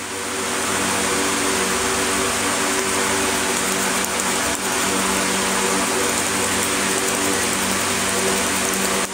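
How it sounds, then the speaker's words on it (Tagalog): Heavy rain falling outside in Manila makes a dense, steady, loud hiss that runs unbroken throughout, with no voices over it. "Ang lakas ng ulan ngayon."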